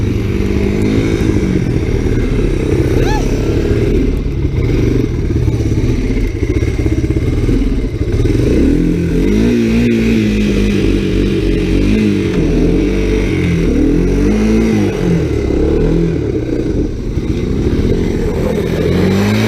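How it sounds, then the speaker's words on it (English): An ATC three-wheeler ridden through snow during winter camping, its engine running loud and close with repeated revving swells and clattering thumps over bumps, sustained without speech. "You gotta be careful riding three-wheelers."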